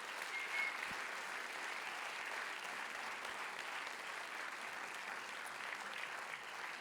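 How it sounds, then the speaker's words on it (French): Sustained applause from an audience at a festival closing ceremony, a dense even wash of clapping that carries on for several seconds at moderate distance, with no speech over it. "On applaudit toutes ces personnes très fort."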